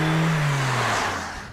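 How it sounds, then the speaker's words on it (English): A 2020 Toyota C-HR engine held at high revs in sport mode, a loud sustained drone with its pitch gradually sliding down as it eases off over under two seconds, no voices. "sport holds the engine at higher RPM, which is supposed to help acceleration"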